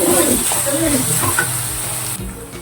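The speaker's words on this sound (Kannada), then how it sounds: "ಸ್ವಲ್ಪ ಅರಿಶಿನ ಪುಡಿ ಹಾಕೊಂಡು ಹಾಗೇನೆ ಎಣ್ಣೆಗೆ ಫ್ರೈ ಆಗಲಿ ಈರುಳ್ಳಿ" Onions fry in oil with turmeric powder, the base for a bitter gourd dish. A loud, close sizzle crackles throughout as the pan is stirred, with scraping strokes over the steady hiss.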